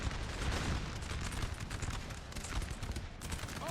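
Napoleonic-era artillery, including 20-pounder cannons, fires during a large Napoleon Total War battle. A dense, continuous rumble of distant gunfire and cannon volleys carries on at a fairly low level, with no voices.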